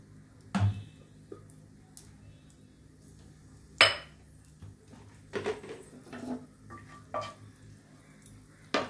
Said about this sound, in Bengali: আমি কাজু কিশমিশগুলো একটু ভেজে নিচ্ছি।